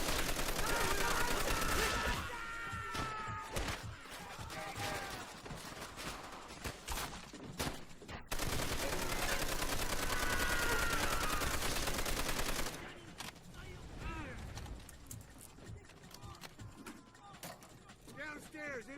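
Dense, sustained battlefield gunfire from Call of Duty: World at War, continuous rattling volleys with shouted voices and chaotic combat noise throughout, loud and unbroken apart from a brief lull.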